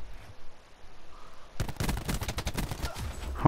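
Rapid bursts of automatic gunfire in Call of Duty Black Ops 4, a 3v3 match, erupt suddenly after a quiet stretch and rattle on continuously and loudly to the end.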